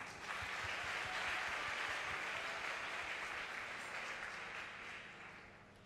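A church congregation at a Sunday service applauds continuously, a dense, steady wash of clapping from many hands that holds for several seconds and then slowly tapers off.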